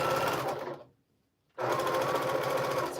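A sewing machine stitches a quilt backing with a close, steady, fast whirring hum. It stops for about half a second and then starts up again at the same pace.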